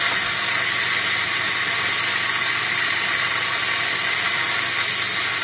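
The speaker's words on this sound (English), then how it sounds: "But I'm gonna go ahead and release the pressure." An Instant Pot cooking corn chowder with coconut milk vents its pressure in a loud, steady hiss of escaping steam that holds unbroken throughout.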